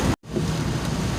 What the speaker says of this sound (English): Oh boy, it is raining out here.